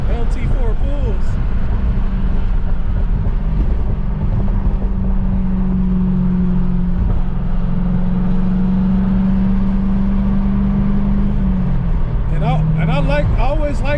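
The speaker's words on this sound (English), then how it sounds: "I always like how the way the LT engines sound. They just got a distinct rumble." A 1996 Chevrolet Corvette Grand Sport with an LT4 V8 rumbles under acceleration, a deep, steady engine drone heard from inside the car, with brief voices at the start and end.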